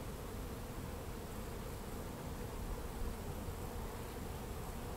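A dense, steady buzz of many honeybees swarming around an open hive during a summer inspection, a continuous droning hum surrounding the listener at low level with no breaks.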